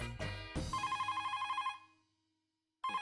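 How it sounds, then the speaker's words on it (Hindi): A telephone rings during a sitcom scene: a bright, rapidly trilling electronic bell, close and clear, cutting off to silence before another ring begins. "उससे अच्छा है कि अब्दुल को ही फोन करूं।"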